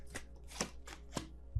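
Tarot cards being shuffled by hand, giving four or five soft, papery riffling bursts at an even pace, close by and quiet, with no talk over them.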